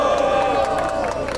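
Dense crowd cheering and shouting at a Brazilian freestyle rap battle night, the audience noise sustained and loud for a rapper named Kroy, with mixed voices and hubbub throughout.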